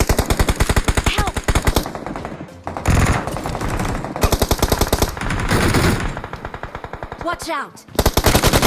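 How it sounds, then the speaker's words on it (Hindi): Rapid automatic gunfire from the mobile battle royale game BGMI (PUBG Mobile) comes in loud, repeated bursts with short gaps, and a voice briefly calls out between volleys. "ये सामने किसी पे तो भी गोली चला रहा था"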